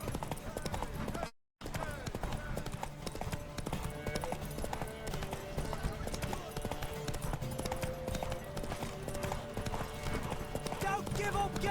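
Horse hooves clip-clopping in The Witcher 3: Wild Hunt, a steady, loud rhythmic trot that runs almost the whole time under voices and game sound, broken once by a brief dropout.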